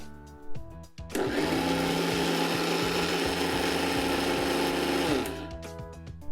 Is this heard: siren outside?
no